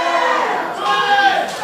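Wrestling event crowd noise rises and swells in a dense, steady roar for under two seconds, with a commentator talking over it.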